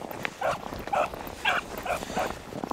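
A beagle hunting dog in a snowy field gives a run of rhythmic, repeated baying barks at moderate distance, about five calls spaced evenly against outdoor background noise.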